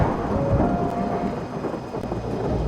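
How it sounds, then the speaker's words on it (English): Loud thunder in a video game demo, a continuous deep rumbling roar that holds steady and fills the short stretch with no voices. "The sound of the loudest thunder jerks you out of your slumber"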